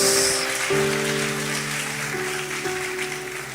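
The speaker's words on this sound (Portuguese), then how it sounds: "Só quem recebe essa palavra aplauda ao Senhor, porque Ele merece." A church congregation claps for the Lord in a long, dense wash of many hands, steady and fairly loud, with a sustained keyboard chord holding underneath and no voices on top.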